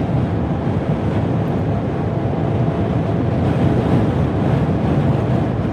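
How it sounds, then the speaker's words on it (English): Strong wind buffets a vehicle driving up a ridge in North Dakota under a high wind warning, a loud, steady roar of gusts and rumble that fills the whole stretch without pause. "we are really fighting the wind right now, coming up over this first ridge"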